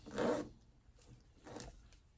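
A small zipper on a clutch wallet rasps in two short, soft strokes during sewing, close and quiet with nothing else audible.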